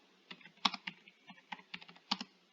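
Quick bursts of keystrokes on a computer keyboard, close and crisp, clicking in an irregular rhythm of a dozen or so taps with brief pauses, alone and fairly quiet.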